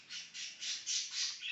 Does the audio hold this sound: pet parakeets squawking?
yes